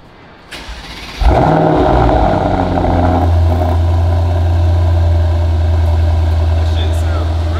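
A Hellcat Redeye's engine starts with a loud burst, then settles into a deep, steady, rumbling idle through the exhaust, close and continuous, with someone talking over it.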